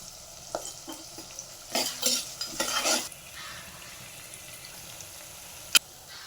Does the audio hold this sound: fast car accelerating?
no